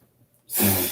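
After a quiet moment, a single sharp, breathy sneeze bursts out close to the microphone.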